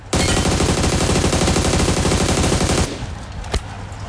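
Sustained automatic assault rifle fire in the video game PUBG, a loud continuous burst of rapid shots lasting nearly three seconds, then a quieter tail with one more distinct shot.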